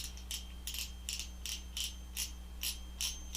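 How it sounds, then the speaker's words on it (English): Drag on a SeaKnight AXE saltwater metal-body spinning reel being loosened, producing nine evenly spaced crisp ratcheting clicks over a faint steady mechanical hum, close and fairly quiet. "I'll loosen the drag up."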